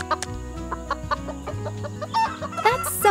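Hens cluck in a run of short, repeated calls, fairly close and loud, with no talk over them.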